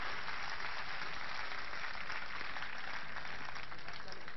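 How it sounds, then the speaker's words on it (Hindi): Dense, sustained applause from a large crowd at an anti-corruption rally on Delhi's Ramlila Ground, a steady broadband roar of many hands clapping throughout with no gaps. "मैं चाहता हूं ये सदन पूरा जोरदार तालियों से उनका स्वागत करे"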